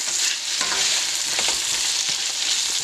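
Tomatoes and vegetables for a scramble sizzle in a hot frying pan with a bright, steady hiss, broken by scraping knocks as they are stirred around, close and without talk.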